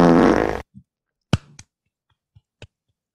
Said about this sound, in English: She had a fart attack.